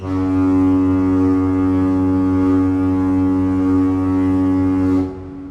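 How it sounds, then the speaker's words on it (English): A lighthouse foghorn sounds one long, loud, deep, mournful blast that holds steady for about five seconds, then cuts off. "We all know what a foghorn sounds like, right? It's something like this."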